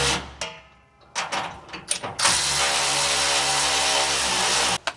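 A ratchet wrench tightens bolts on a Corsa Xtreme cat-back exhaust under a 2024 Ford F150 4x4 5.0L, with a few scattered clicks, then a sustained close, loud run of ratcheting.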